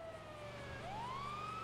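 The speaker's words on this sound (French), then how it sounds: "Là j'entends encore une fois des sirènes et ils décident de me cacher." Emergency sirens wail in a video game, a steady tone breaking into a rising sweep over a constant low engine-like hum, with no talking.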